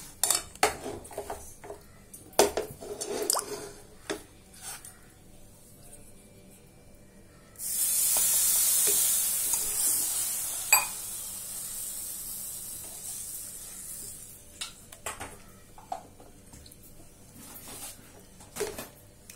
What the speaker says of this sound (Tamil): பால் ஊற்றி கிண்டிக்கிட்டே இருக்கணும்